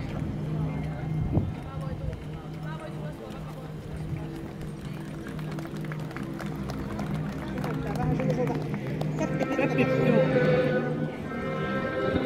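A Finnhorse named Pian Pimu moving at an event, hooves clip-clopping with an occasional whinny, heard under a steady announcer's voice talking throughout.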